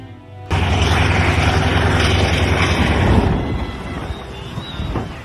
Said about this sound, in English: The aircraft's turn unleashed a powerful burst of air that flung a nearby individual across the runway.